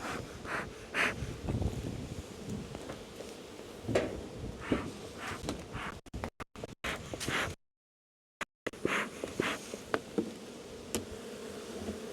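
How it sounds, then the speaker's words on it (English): Honey bees buzz steadily around hives being reduced in a bee yard, a dense close swarm drone with wind buffeting and a brief dropout midway. "We need as many bees out of here as we can get."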